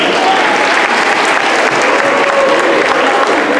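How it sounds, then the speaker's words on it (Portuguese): A school Christmas celebration audience gives loud, continuous applause for the class directors, a dense, even roar of clapping with no pauses across the whole stretch. "os diretores de turma têm merecem uma salva de palmas"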